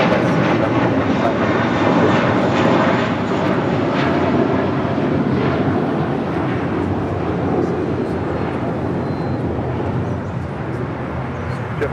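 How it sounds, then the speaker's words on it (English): JetBlue Airways Airbus A321 jet, flight 424 bound for JFK, at Los Angeles International Airport: a steady, loud broadband engine roar that fills the whole stretch without letup, with faint talk underneath. "JetBlue Airways Flight 424 heading to JFK in that A321."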